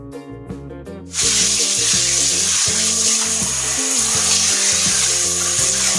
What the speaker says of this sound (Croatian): Potom izribajte i isperite vodom.